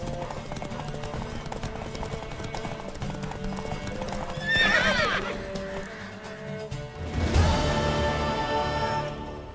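Horse hooves clip-clop steadily in The Witcher 3 video game, joined by two loud neighs and whinnies midway and near the end, over a continuous game soundscape with background music.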